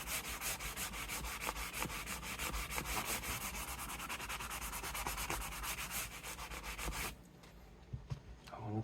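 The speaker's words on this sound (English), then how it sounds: "These sanding blocks work very good for this." A sanding block scuffs the frets of a vintage 1973 Gibson Les Paul Custom during a refret, a loud, continuous rhythmic rasping with quick back-and-forth strokes that stops abruptly near the end, leaving a few light knocks.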